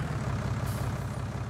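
In the Farming Simulator 19 game, a vehicle engine idles with a low, steady, throbbing hum, and a brief hiss rises over it in the middle of the short stretch.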